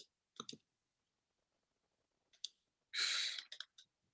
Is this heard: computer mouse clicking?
yes